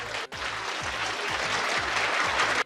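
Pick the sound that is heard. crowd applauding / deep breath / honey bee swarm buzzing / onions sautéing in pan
crowd applauding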